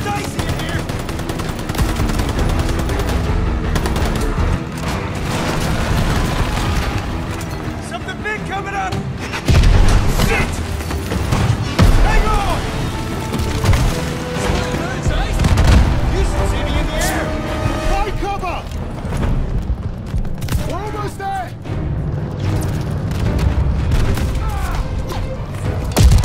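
Sustained gunfire and heavy booms from a Call of Duty Vanguard cutscene, dense and loud throughout, with a dramatic score and shouted voices layered over the battle din.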